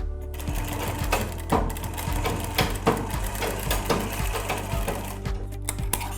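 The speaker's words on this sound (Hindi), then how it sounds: "अब इसमें 3 फोल्ड करेंगे और फिर इसको सिल देंगे।" A sewing machine stitches a fabric hem folded three times, producing a steady, fast mechanical rattle of needle strokes with a low motor hum throughout.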